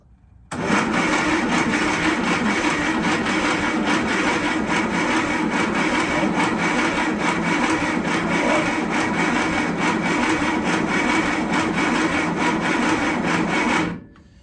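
An engine turning over on the starter without catching, right after the choke is pulled out; a steady, dense mechanical churn runs loud and unbroken for about thirteen seconds, then cuts off abruptly.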